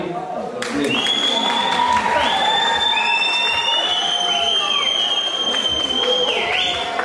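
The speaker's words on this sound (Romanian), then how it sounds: "Aplauze încă o dată pentru Electro și Andrei" A crowd applauds and cheers performers Electro and Andrei at an evening show, a steady, loud wash of clapping and crowd noise with sustained whistle-like tones above it and voices mixed in throughout.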